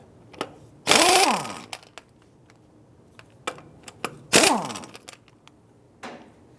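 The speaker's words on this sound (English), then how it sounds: "Using a 21mm socket, go ahead and remove the lug nuts." Lug nuts on a 2000-2006 Toyota Tundra wheel being removed with a 21mm socket, two loud whirring bursts of a power tool separated by scattered clicks and light metallic taps, close and without talk.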